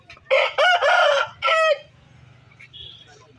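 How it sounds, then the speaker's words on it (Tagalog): A Shamo rooster gives one loud, close crow in several stretched, strained syllables, then falls quiet over a low background hum. "So ayan po ang kanyang alagang manok."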